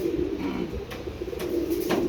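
Pigeons coo softly in low, repeated throaty calls, close by, with faint higher sounds in the background.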